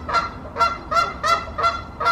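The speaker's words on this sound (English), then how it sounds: "What is going on over there? You got some geese." Geese honk outside a house, six evenly spaced loud calls in a steady rhythm, fairly close and alone.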